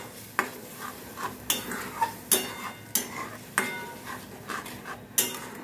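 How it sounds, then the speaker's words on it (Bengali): A spoon stirs and scrapes soybean malai curry masala with yogurt in a pan over a low flame, producing regular close scraping strokes about every half second over a faint sizzle. "তরকারিতেই দই দিলে গ্যাসের ফ্লেমটা একদম কমিয়ে দিতে হবে, আর মশলাটাকে কন্টিনিউ নাড়াতে হবে"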